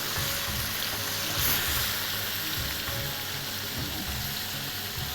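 Ingredients stir-fried in a hot pan: steady, dense sizzling hiss close by, with a brief louder flare partway through and faint scraping movement underneath, no voices.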